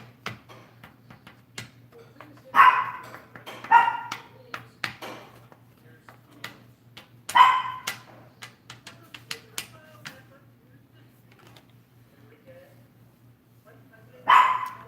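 Dog barking, several sharp barks at moderate distance spaced out over the stretch, with clicking and tapping sounds and speech in between.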